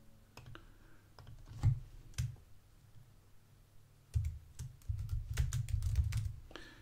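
Sharp clicks from a computer mouse or keyboard during a software walkthrough, scattered single taps followed by a quicker cluster of clicks, close and fairly quiet with no speech.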